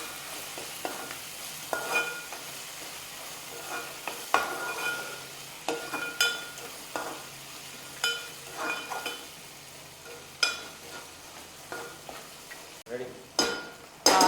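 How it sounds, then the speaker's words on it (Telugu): Ginger garlic paste frying in a pan for a ridge gourd and chana dal curry, a soft sizzle under intermittent scraping stirs and light clinks, quiet and close. "కొంచెం అల్లం వెల్లుల్లి పేస్ట్ కొంచెం పచ్చవాసన పోయేదాకా అది కూడా ఫ్రై చేయాలి"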